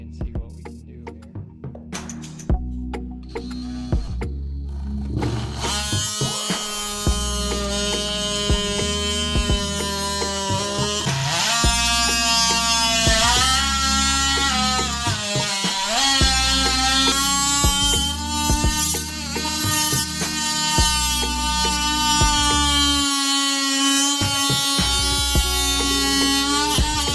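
A DeWALT oscillating multi-tool at speed setting 3 cuts through wood with a loud, steady, high buzzing drone that holds for over twenty seconds, its pitch wavering slightly as the blade bites.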